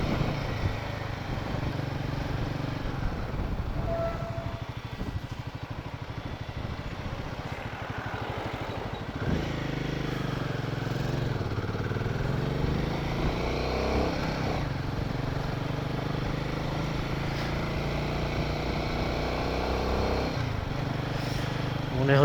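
Bikers' motorcycles ride a snowy mountain road toward the Singe La pass in Ladakh; their engines drone steadily at moderate distance, swelling and revving as more machines approach.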